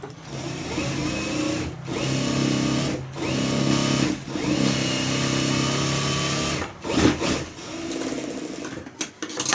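An electric sewing machine stitches fabric for decorative blouse sleeves, a loud, close, steady whirring hum running in long bursts separated by brief pauses.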